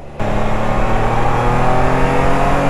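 Can-Am Spyder RT 2020 three-wheel motorcycle accelerating, the engine surging in suddenly then holding a loud, close, rising drone with a steady tonal hum, with no talking.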